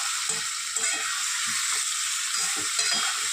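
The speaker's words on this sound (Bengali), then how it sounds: "এবার সিদ্ধ করে রাখা আলু দিয়ে দেবো আলুটা দিয়েও কষিয়ে নেবো পাঁচ মিনিট" Boiled potatoes fry in masala for aloo dum, a steady, fairly loud sizzle with soft rhythmic stirring thuds throughout, and no voices.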